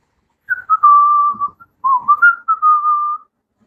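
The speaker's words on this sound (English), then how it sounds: "Just whistle and act natural." A person whistles a simple tune alone, two clear phrases of sustained, slightly wavering notes separated by a short pause, fairly close and steady.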